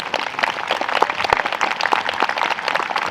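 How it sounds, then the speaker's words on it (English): Audience applause after a hula performance at an outdoor Kona Nui Nights event in Hawaii, a steady crowd of clapping hands with scattered sharper claps, moderately loud and continuous. "A big round of applause."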